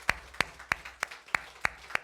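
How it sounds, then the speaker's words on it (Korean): A church congregation claps in praise of its worship team during a Sunday service, giving seven crisp, evenly spaced claps over a couple of seconds at moderate volume. "큰 축복의 박수 올려드리도록 하겠습니다."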